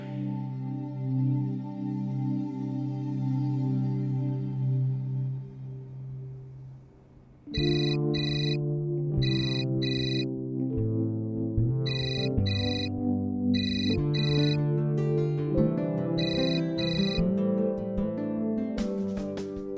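A phone rings while a call is being placed, heard as a repeating electronic ringtone melody in short rhythmic bursts that follows a soft sustained tone, fairly quiet and with no talking.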